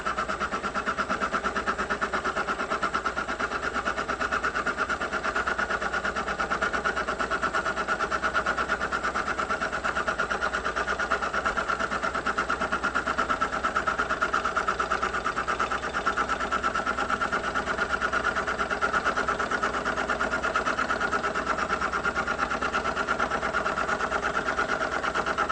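A homemade ring roller machine runs at roughly 600 RPM, giving a steady, continuous mechanical whir and hum that holds at an even level throughout, with no talk over it.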